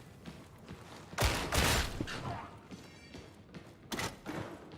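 Sniper gunshots in the video game Darktide, a few sharp cracks and thuds, two loud bursts spaced apart over quieter game noise.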